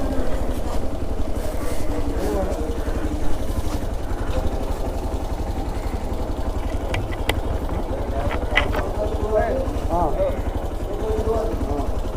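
Steady, close engine drone from a ferry boat on Chilika Lake in Odisha, running evenly throughout with a low rhythmic throb, while people talk faintly underneath.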